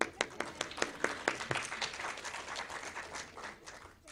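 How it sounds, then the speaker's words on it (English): Scattered audience applause at a ReelWorld press conference in Toronto, a handful of distinct claps at first that thicken into a brief patter of moderate, fairly close clapping before fading. "It says pause for applause."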